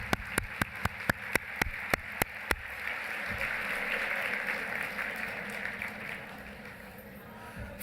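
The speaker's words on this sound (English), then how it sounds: "You know, they deserve a round of applause for the babysitting" A crowd's round of applause at a rabbinical gathering, opening with a run of sharp, evenly spaced claps that quickly swell into broad, sustained clapping from many hands, steady and moderately loud throughout.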